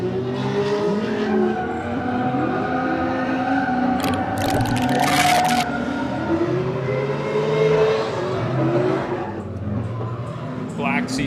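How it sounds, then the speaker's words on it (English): Black Corvette C6 drifting at a live event, engine roaring and revving continuously with tires squealing in long wails, loud and close throughout, with crowd voices underneath. "Black C6 here drifting."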